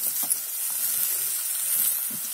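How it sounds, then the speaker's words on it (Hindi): Diced potatoes land in a pan of frying eggplant (brinjal) for an aloo baingan palak saag sabzi, giving a steady close sizzle of hot oil with a few soft stirring scrapes and small crackles throughout. "ये फ्राई हो चुके हैं, तो मैं इसमें आलू डाल दे रही हूँ"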